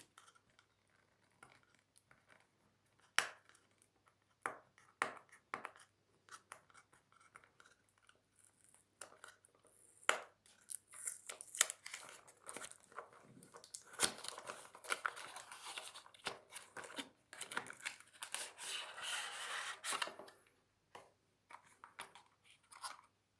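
Xiaomi earbuds packaging being unwrapped and opened, with close crinkling, tearing and tapping of plastic and cardboard, sparse at first and then a dense burst of rustling before it falls quiet.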